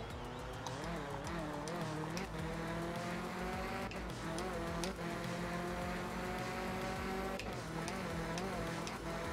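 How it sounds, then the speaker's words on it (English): A Group B rally car, the Hyena, races in a video game. Its engine holds a loud, steady whine that rises and falls through repeated gear changes, with a voice talking over it. "this is generally considered the best Group B car, the Hyena"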